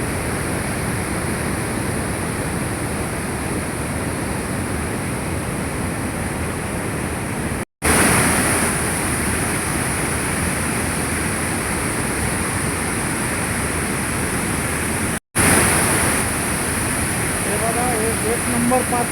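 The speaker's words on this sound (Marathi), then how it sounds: "पाणी सोडण्यात आलं आहे बोरगाव गाव मध्यम प्रकल्प." Water released through the dam gates of the Borgaon medium irrigation project roars as one loud, steady, close rush, cut off twice for an instant.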